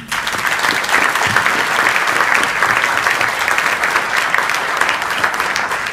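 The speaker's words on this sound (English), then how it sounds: "a big round of applause" Sustained, loud applause fills a room at a community partners breakfast as the audience claps for teachers, a dense and even wash of hands with no break.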